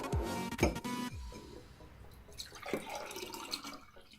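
Homemade Nuka Cola drink poured into a glass, a close trickle and splash with a few glassy clinks at the start, then a softer, quieter pour.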